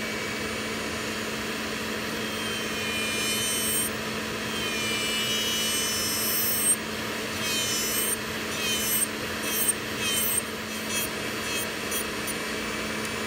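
An electric nail drill grinds down and removes tip extensions on fingernails, giving a steady high whine with scraping bursts that grow more frequent toward the end.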